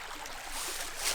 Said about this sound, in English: Have a creek, a stream, a babbling brook, whatever you want to call it.